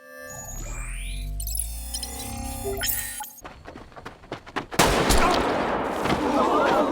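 Gunshots from a Squid Game episode ring out as sharp, repeated cracks after a droning musical passage, followed by dense chaotic noise, with occasional voices.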